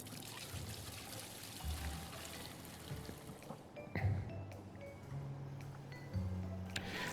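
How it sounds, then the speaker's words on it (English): Water poured into a pail while filling an aquarium in the game Aquarist, a steady trickling pour with faint clinks, no talk. "let's grab our pail and fill it up with water"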